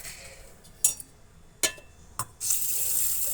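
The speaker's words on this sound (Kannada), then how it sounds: "ಈ ಹುರುಳಿಕಾಳನ್ನು ನಾವು ತೊಳೆದು ಹಾಕ್ಕೊಳ್ಳೋಣ" Horse gram is rinsed in water at a kitchen sink, with a few sharp clinks against a vessel followed by a sudden steady rush of running tap water close by.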